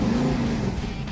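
Custom truck exhaust running through headers into a custom muffler and out the stacks, a steady low rumble that holds evenly through the short stretch before easing slightly near the end.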